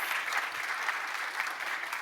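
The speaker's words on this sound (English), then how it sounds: "Everyone, please give a round of applause for the Truist" An audience at a business talk on corporate communications applauds in a steady, even patter of many hands, moderately distant and fairly quiet, lasting about two seconds.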